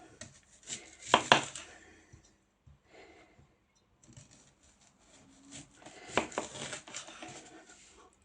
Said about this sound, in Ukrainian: І тепер ще нам потрібно нарізати кільцями цибулю.